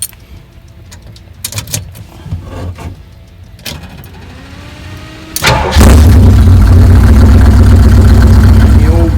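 An old Jeep engine starts after some clatter and handling noises, then settles into a loud, low, steady idle near at hand.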